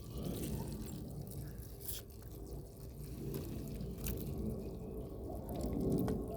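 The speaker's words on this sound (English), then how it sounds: "pour the water inside." Water poured into a Jiffy greenhouse seed-starting kit, a steady trickling and dripping wash that runs throughout at moderate, close level with no talk over it.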